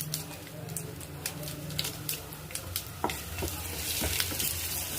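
Asafoetida, urad dal, chana dal and dried red chillies fry in hot oil for a Telugu ridge gourd and green chilli chutney tempering, giving a steady close sizzle with scattered pops and spoon scrapes throughout.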